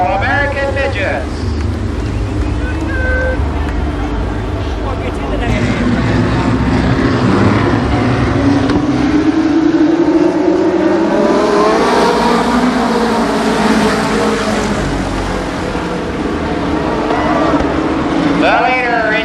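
Midget race cars roar around the Columbus Motor Speedway oval in a continuous loud engine drone that rises and swells as the pack passes, with an announcer talking over the racing throughout.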